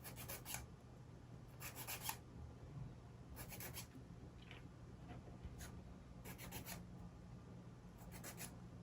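Rhythmic raspy rubbing of sandpaper on a small wooden part from a UGears Windstorm Dragon wooden model kit, several short bursts separated by pauses, close and fairly quiet.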